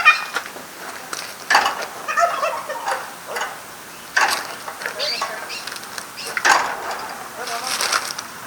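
Peacocks, including a white peacock, at a nature sanctuary give loud, cat-like wailing calls in three separate bursts a couple of seconds apart, heard outdoors amid faint background sound.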